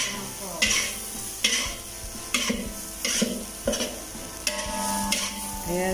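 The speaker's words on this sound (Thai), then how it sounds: "เรากำลังจะคั่วมะพร้าวค่ะ" Shredded coconut dry-roasting in a pan for a sweet Thai khanom tian filling, with rhythmic scraping strokes of a spatula about every second over a faint background sizzle.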